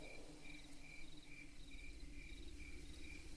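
Crickets chirp at night near a river, repeating in even, rhythmic pulses against a soft steady background, moderately close and alone with no voices.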